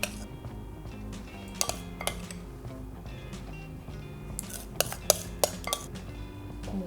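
A spoon scrapes and taps against a baking dish while smoothing a ricotta mixture over pasta, with scattered clinks and knocks that come in short bursts over a quiet kitchen background.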